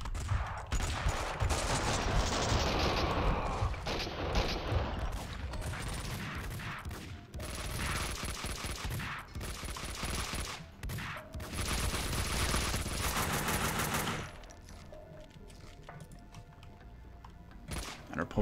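Rapid pump-action shotgun fire in Max Payne 2, a string of loud blasts and mechanical clacks crowding together before the action drops to a quieter tail.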